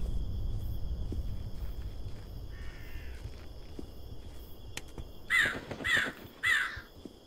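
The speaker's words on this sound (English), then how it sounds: "Okay, there's some crows." Three loud crow caws in quick succession near the end of a scene in the horror game Sign of Silence, standing out over a low, steady ambient rumble after a quiet stretch.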